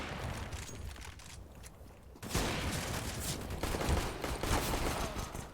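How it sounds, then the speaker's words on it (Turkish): Pistol shots fire in the Brawl Stars mobile game, a dense crackling burst of rapid gunfire after a quieter opening, continuing loud and busy to the end. "Tabancayı sıkıyorum da."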